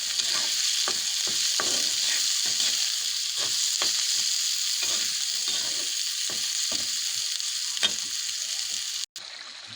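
Onion and chili frying in a pan after fish has been fried, a continuous bright sizzle with repeated sharp stirring scrapes throughout and a brief dropout near the end.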